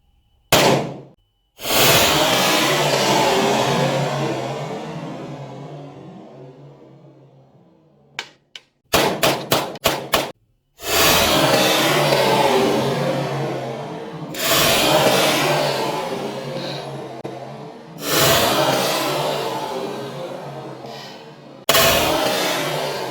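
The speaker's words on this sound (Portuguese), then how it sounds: "Vamos atirar agora com a 9mm G17 Glock. Mesma coisa, um disparo isolado e depois a sequência" A 9mm Glock G17 pistol fires one loud, sharp shot with a long echoing tail, then a quick burst of rapid shots, then several more single reports spaced apart, each ringing out across an open range.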